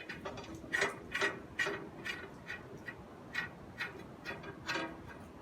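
A nut being turned down a long threaded rod during a pallet-wood bench restoration gives faint, irregular metallic ticks and clicks, close but quiet, with no talking.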